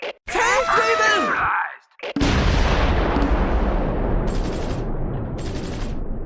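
Battlefield gunfire and shell blasts in the Close Combat 4 Battle of the Bulge game at Houffalize, following a short spoken radio-style voice, then a sustained roar of overlapping shots and explosions.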